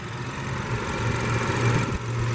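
A 2016 Mini Cooper hardtop's 1.5-liter turbo three-cylinder engine running steadily nearby with the manual car idling, an even, slightly uneven-pulsed hum with a low throb, no voices.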